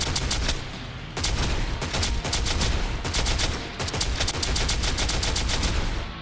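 Rapid video game gunfire, dense bursts of automatic shots in long loud volleys with brief gaps, close and alone without talk.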